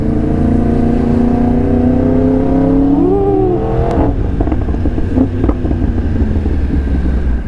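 Yamaha R1M crossplane four-cylinder motorcycle riding through traffic in Jatiwaringin, a steady engine drone rising in pitch then dropping as it shifts, with heavy wind buffeting throughout.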